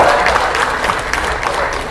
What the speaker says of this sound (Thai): ขอเสียงปรบมือให้กับนิรนีฟาร์มเขาใหญ่ด้วยครับ